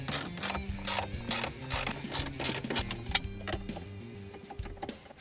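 A hand ratchet clicks in quick rhythmic bursts while backing out 7mm bolts holding the 8-inch screen of a Ford F-150, close and crisp, with short pauses and a small clunk between the runs of clicks.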